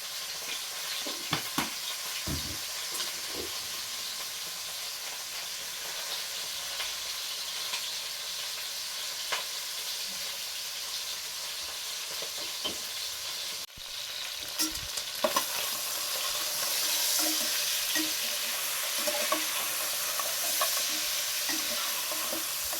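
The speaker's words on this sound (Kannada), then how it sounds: "ಇಲ್ಲಿ ಮಟನ್ ಚೆನ್ನಾಗಿ ಬೇಯ್ತಾ ಇರಲಿ." Mutton seasoned with turmeric and salt sizzles steadily in a pan, a continuous close hiss with occasional stirring clicks that grows a little louder toward the end.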